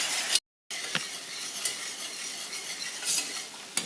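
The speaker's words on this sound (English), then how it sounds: "Gotta keep stirring it. Don't want it to burn, huh?" Sour cream sauce being stirred in a pot on the stove, a steady close scraping and swishing with a faint sizzle, interrupted once by a brief gap of silence.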